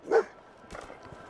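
A dog in Fallout 4 gives a single sharp, close bark followed by a softer, fainter whine-like yip, with no voices present.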